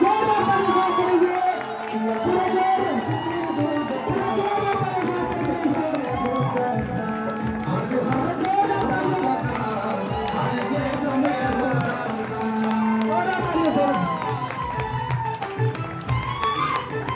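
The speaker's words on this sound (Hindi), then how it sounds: "आप सभी दोस्त का जोरदार तालियों के साथ मैं इनवाइट करना चाहूंगा" Sustained crowd noise with clapping and cheering as an audience welcomes a company's founder director onto the stage at an event, loud and continuous throughout.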